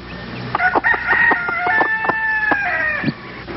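Backyard chickens kept in a family garden: a rooster's long, loud crow rings out in a rising, wavering call over steady hen clucking, all close by, with no voices.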